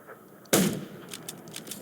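A single loud, sharp gunshot from the video game Undawn cracks out abruptly, followed by faint scattered game effects in the background, with no talking.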